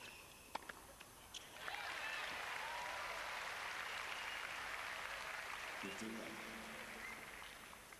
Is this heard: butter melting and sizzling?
no